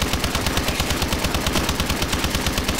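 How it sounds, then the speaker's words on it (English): A shotgun firing rapidly in the ExoZombies mode of a first-person shooter, with dense, evenly spaced blasts in a fast, continuous burst of loud, close gunfire. "It's because I'm trying to use my fucking shotgun."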